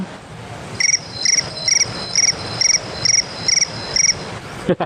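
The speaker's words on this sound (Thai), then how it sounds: "มันคือจิ้งหรีด" A cricket-chirp ringtone: regular bursts of high, trilling chirps repeating about twice a second, clear and close, with no talking.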